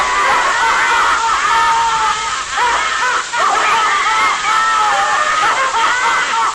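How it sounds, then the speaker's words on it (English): A group of mechanical sailor automatons shriek with laughter all together, a dense, loud, piercing wall of cackling that runs continuously with only a brief dip partway through. "a collection of sailors that, when activated together, fills the house with a shrieking laughter that can drive you insane"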